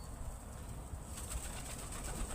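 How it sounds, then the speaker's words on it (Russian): A white dove softly coos while moving around a bottle of millet at a neighbour's place, a faint, low murmur with light rustling in a quiet outdoor setting. "Моя белая голубица нашла себе развлечение."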